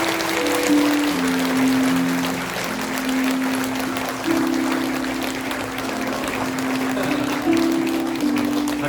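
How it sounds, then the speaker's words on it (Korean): A church congregation applauds during a flower presentation at a parents' honouring service, a steady wash of clapping under sustained tonal music or voices. "꽃다발 전해주실 때 우리 큰 박수로 감사드립니다"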